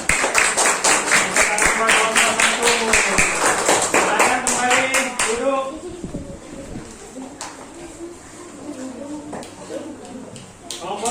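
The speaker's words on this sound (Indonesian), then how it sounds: "Tepuk tangan buat mereka." A class of schoolchildren claps their hands together in fast rhythmic unison for about five seconds, then stops, leaving a teacher talking in the room.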